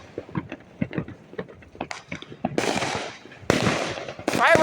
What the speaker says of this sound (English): Fireworks are everywhere tonight.